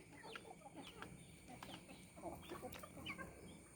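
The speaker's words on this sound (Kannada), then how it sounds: "ಇಂಕ್ಯುಬೇಟ್ ಮಾಡಿ ಹ್ಯಾಚಿಂಗ್ ಮಾಡಿ ದೊಡ್ಡದು ಮಾಡಿದ ಮರಿಗಳು" Young chickens hatched from incubated eggs, giving faint scattered clucks and soft chirps over a low hum, several birds calling at irregular intervals from close by.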